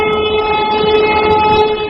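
A train rumbles steadily in a radio drama while its horn sounds one sustained, loud, close note throughout, with no voices.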